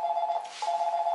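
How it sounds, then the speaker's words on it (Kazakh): A telephone rings in a steady electronic trill that repeats in two bursts with a short gap between, clear and fairly close, in an office with no talk over it. "Телефоныңыз"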